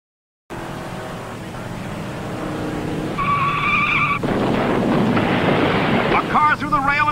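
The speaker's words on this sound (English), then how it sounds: "Pagan blew a tire, smashed through the guardrail, and rolled down the 40-foot embankment." A race car that has blown a tire skids and slides into a guardrail, a loud rushing roar of engine and wind building steadily, with a screeching tone and then harsh scraping noise.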